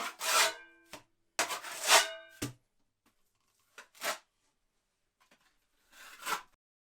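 Plaster skimmed onto a wall with a trowel, several short raspy scraping strokes with quiet pauses between them, close and fairly faint, no talking.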